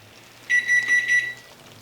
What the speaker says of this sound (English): Let me turn my timer off.